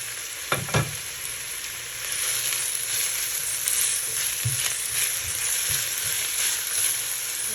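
White onions and garlic sizzle steadily in olive oil in a pan, a close, soft crackling hiss with a few stirring scrapes and clinks near the start.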